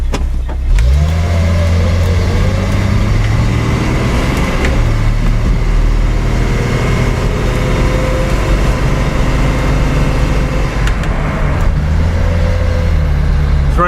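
A Datsun 280Z's engine drones steadily from inside the cabin while driving, with road rumble and a low, even hum throughout.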